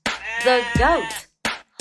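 A single wavering goat bleat, loud and near, followed by a couple of brief soft knocks.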